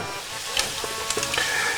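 Flour frying in a pan, stirred with a wooden spoon for an old-style flour soup, gives a steady close sizzle broken by several soft scraping strokes, with no talking.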